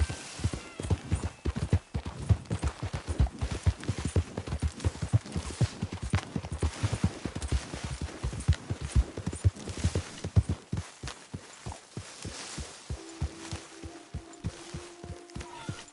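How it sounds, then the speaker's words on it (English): Horse hooves clop in a steady walking rhythm in the Red Dead game, close and distinct, continuing for many seconds before thinning out as a faint tone enters near the end. "Hey, what's that horse doing in here?"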